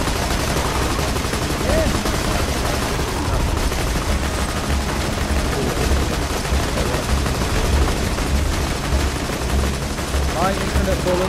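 Steady, relentless gunfire from guns in Borderlands 2, a loud continuous stream of rapid shots mixed with game effects and creature noises, with voices talking over it.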